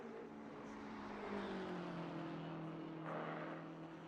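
Twin-turbo BMW race car engine in a racing sim at Mount Panorama, a steady droning note with gently shifting pitch as it climbs over the mountain, fairly loud and continuous with no talk over it.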